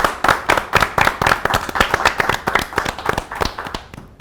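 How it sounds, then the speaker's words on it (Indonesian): Audience at a young singers' show clapping for the performers Arsha, Pinky and Ricardo, loud, close, fairly even handclaps in a steady brisk rhythm lasting about four seconds before tapering off. "Kita tepuk tangan untuk Arsha, Pinky, dan Ricardo."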